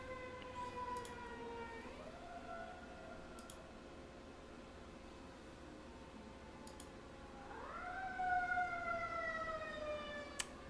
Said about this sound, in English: That ambulance is on my end.